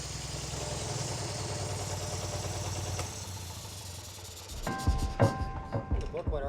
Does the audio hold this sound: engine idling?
yes